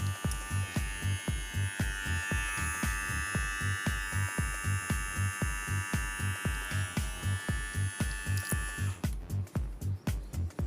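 A NOVA NHT-1045 electric hair trimmer runs steadily with a loud, pulsing motor buzz and a high whine that drops out near the end.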